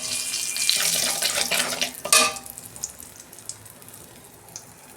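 Water splashes into a pan of spices with oil, turmeric and Kashmiri chilli for pabda fish curry, a loud pouring rush for about two seconds, then faint sizzling and drips as it settles.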